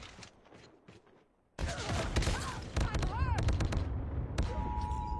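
Loud, dense gunfire from a Call of Duty Mobile match, with sustained rapid bursts and sharp shots layered over game effects, and a player's voice briefly heard before the shooting erupts.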